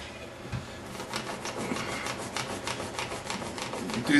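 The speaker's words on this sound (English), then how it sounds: "I just roll it back and forth with the palm of my hand" A lead rod rolled back and forth under the palm of a hand while strand chamber lead rods are installed, giving a steady rubbing, rasping scrape in repeated strokes, close and fairly loud, with no talking.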